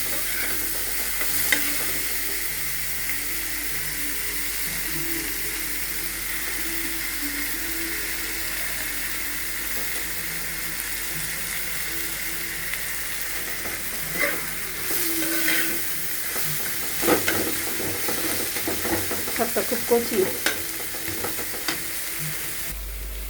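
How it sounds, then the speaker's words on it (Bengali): Red amaranth greens frying with plenty of onion in oil, a steady soft sizzle running throughout with occasional stirring scrapes and clinks of a utensil against the pan, plus a brief spoken comment. "শাক ভাজা হয়ে গেছে বন্ধুরা"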